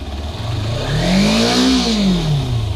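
A Kawasaki Versys X 300 motorcycle engine revs smoothly up and back down in one close, loud throttle sweep over a steady idle.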